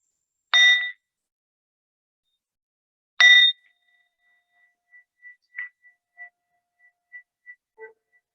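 A meditation bell is struck twice during a mindfulness evening session, each clear metallic ding ringing out alone and fading into quiet, followed by faint scattered small tones.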